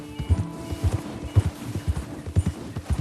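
A horse gallops along a trail in Red Dead Redemption 2, its hooves striking in a quick, steady clip-clop rhythm at moderate distance with no talk over it.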